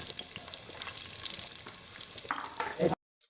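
Chopped onions frying in soybean oil, a close, busy sizzle with stirring scrapes that swells near the end and then cuts off to silence.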